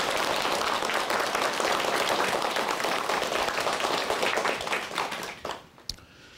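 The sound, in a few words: studio audience applause welcoming a lecture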